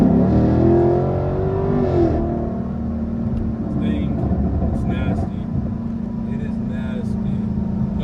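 An LT1 sports car engine runs with a steady low drone, after an initial rev that settles back. Faint clicks sound intermittently over it.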